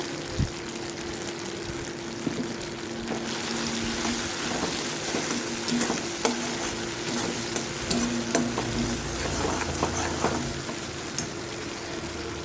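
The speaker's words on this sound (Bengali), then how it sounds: "মশলাটা ভালো করে আমি কষিয়ে নেব" Turmeric, red chilli, coriander and cumin powders sautéing in a pan for potol posto make a continuous close sizzle, with stirring scrapes and small clinks throughout and no voices.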